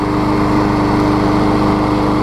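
A Troy-Bilt TB360 tiller engine runs steadily just after its carburetor was cleaned, a loud, continuous small-engine drone with a steady buzzing tone and no pauses, no voices over it.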